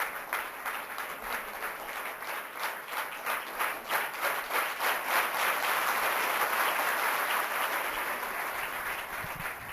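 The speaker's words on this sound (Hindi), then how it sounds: "जोरदार तालियों से स्वागत, अभिनंदन" Audience at an Independence Day ceremony at Dev Sanskriti University in Haridwar breaks into steady applause, a dense patter of many hands that swells in the middle and then holds at a fairly loud, even level.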